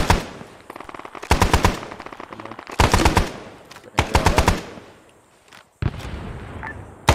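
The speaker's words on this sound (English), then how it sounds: "Yeah, machine guns fuck them up." Bursts of machine gun fire in the military video game ARMA 3, coming in three or four loud rapid strings separated by short gaps, with a sharp single blast near the end.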